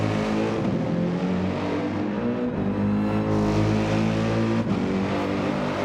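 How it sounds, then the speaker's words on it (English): Race car engine in a racing video game at Bathurst, revving steadily with repeated quick shifts well before the top of the rev range, loud and continuous with no talk. "he is upshifting fairly early, almost just over halfway through the rev range"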